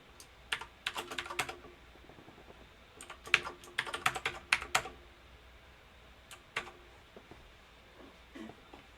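Keys clatter on a computer keyboard in irregular bursts of quick, light clicks with short pauses, fairly close and moderately quiet, with no voices over them.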